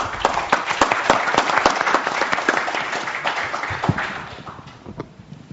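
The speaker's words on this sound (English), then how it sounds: "Let's give our panel a round of applause." Conference audience at a nuclear policy plenum session clapping for a panel, a dense burst of applause with sharp individual claps that gradually thins and fades toward the end.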